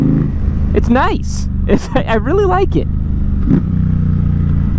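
Suzuki GSX-8R motorcycle with a full exhaust in 4th gear around 3,000 RPM, a steady deep engine drone running throughout while someone talks over it.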